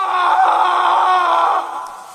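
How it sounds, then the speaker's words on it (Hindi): A man screams in a long, loud, sustained cry for about a second and a half, tapering off at the end, used as a sound effect in a Hindi horror story podcast. "अचानक किसी आदमी के चीखने की आवाजें आनी शुरू हो गईं"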